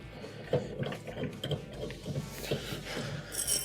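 A 1/4-inch screw being backed out of a gas oven pressure regulator bracket, giving a close, quiet series of small metallic clicks and ratcheting ticks in an uneven rhythm.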